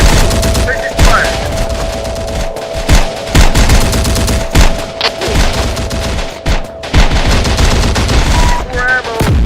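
Heavy gunfire fills a firefight in the Terminator Dark Fate Defiance video game, loud overlapping bursts and single shots close by, with shouted voices mixed in and a steady tone underneath.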